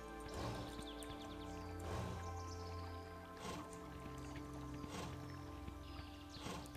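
Horse hooves clip-clop in Kingdom New Lands, a soft, faint, evenly spaced series of hoofbeats over a low sustained musical drone.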